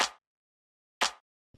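Two short, bright claps about a second apart, dry and close, with a tiny faint tick after the second.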